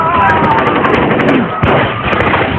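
Gunfire in a film, a rapid burst of sharp loud shots crackling over a dense soundtrack, heard under a narrator's voice for a couple of seconds.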